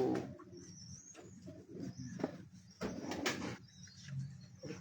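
Pigeons cooing softly nearby on a rooftop, low throaty murmurs repeating over faint outdoor ambience and occasional rustling.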